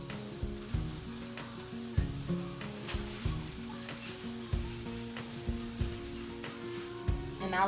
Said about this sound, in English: So I'm going to just keep stirring this up until they soften up.